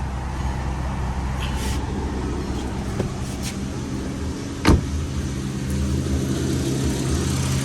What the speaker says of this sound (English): so now I want to crank the car. We're gonna turn on the AC, low and the high.